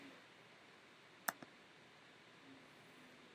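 A single crisp mouse click, quickly followed by a fainter second tick, made while opening a profile drawer in a computer app, isolated against quiet room hiss.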